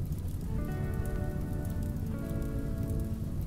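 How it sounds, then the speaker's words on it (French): Toxic rain falls steadily in the video game RimWorld, a dense, even patter with a faint tonal hum rising and falling in the background, continuous and without talk. "Combien de temps cette pluie toxique va durer, franchement."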